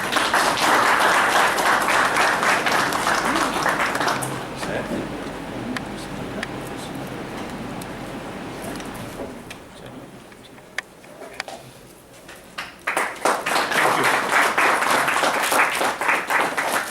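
Audience applause fills a hall at MVN University's first leadership conclave: a loud burst of clapping that fades into quieter room noise, then swells again into another strong round.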